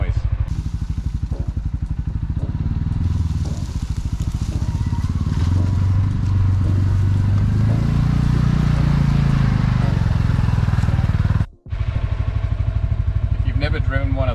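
Engine and exhaust noise from a CFMOTO UFORCE 600 side-by-side: a steady, loud low droning rumble that rises and falls slightly, cuts out abruptly for a moment, then resumes.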